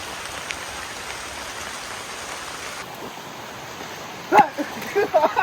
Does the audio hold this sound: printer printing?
no